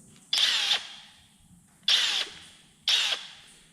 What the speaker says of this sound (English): I use the impact today. It is pretty heavy, but see, I'll squeeze it and you'll see the delay